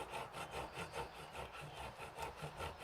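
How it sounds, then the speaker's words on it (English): Aged pecorino cheese is rubbed against a grater in quick, even back-and-forth strokes, a soft rhythmic rasping at close range with no talking. "We grate the cheese."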